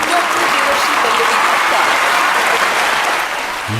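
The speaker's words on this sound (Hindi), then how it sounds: "तो चलिए जोरदार तालियों से स्वागत कीजिए डॉक्टर देवर्षि पल्लवी भट्ट का" A crowd gives a loud, sustained round of applause to welcome a guest at a talk event, a thick uninterrupted wash of clapping that stays strong before easing slightly at the very end.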